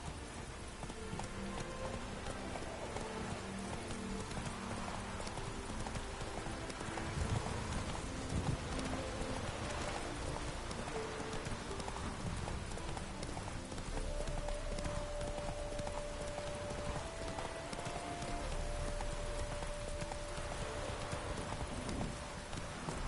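Horse hooves clip-clopping steadily under Geralt's mount in The Witcher 3, a continuous rhythmic trot mixed with game ambience and rain-like background, moderately loud with no speech.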